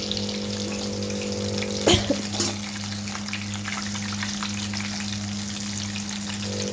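Kebabs fry in a kadhai with a steady close sizzle and crackle, a couple of brief clattering knocks early on, over a constant low hum.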